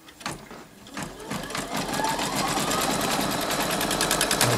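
A Brother Innovis 2800D embroidery machine stitches a design, its fast, steady needle clatter rising after a brief start and then running continuously and close.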